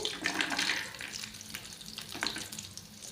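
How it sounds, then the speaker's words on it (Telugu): Dried coconut pieces and cashews frying in hot ghee, a gentle bubbling sizzle with watery hiss and a few stirring sounds, fairly quiet and close. "కొంచెం ఎర్రగా వచ్చేంత వరకు ఇలా ఫ్రై చేయాలన్నమాట"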